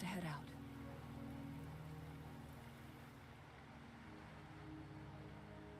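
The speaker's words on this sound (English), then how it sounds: "The rain is subsiding, and the sky will soon clear." Steady rain falls in the game Wuthering Waves, a soft continuous patter with a low droning bed beneath it, quiet throughout and easing slightly toward the end.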